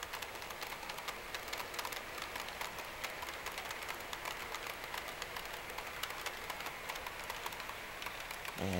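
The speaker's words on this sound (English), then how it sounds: "Listen to the clicks on the track." Rapid, even clicking of small model train wheels, a Bachmann Spectrum Schnabel transformer car, rolling over track joints, a steady fine ticking with no voices.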